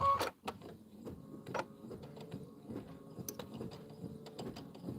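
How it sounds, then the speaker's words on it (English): An embroidery machine works an outline stitch around a snowman pillow block, giving quiet, irregular mechanical clicks and ticks with a faint whirring underneath. "Now it's going to do an outline stitch around the whole thing"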